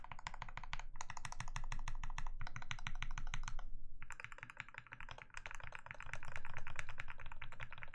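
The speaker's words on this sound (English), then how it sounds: "let me give you a test of the modifiers and the keycaps in general" Typing on a TMO50 mechanical keyboard with Alpaca switches, rapid close clacks and thocks of keys and modifiers in steady bursts with a short pause midway.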